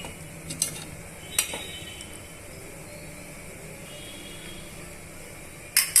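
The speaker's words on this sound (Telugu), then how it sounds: "వాటర్ని యాడ్ చేసుకొని ఇవన్నీ బాగా మిక్స్ చేసుకుందామండి" A spoon scrapes and clinks against a pan of cucumber curry with added water a few times, sparse metallic knocks over a quiet steady background hiss.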